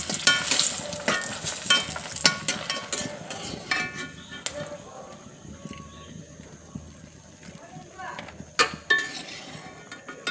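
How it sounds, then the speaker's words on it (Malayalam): Dried red chillies fry in coconut oil in a pan, a soft steady sizzle under frequent scraping and clinking of a spatula against the metal, close by. "ഉണക്കമുളക് നമുക്ക് വറുത്തെടുക്കാം"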